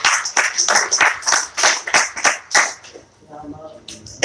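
A crowd applauds a woman introduced on stage at a gathering, loud dense clapping in bursts that fades into quieter scattered claps near the end, with a voice speaking over it.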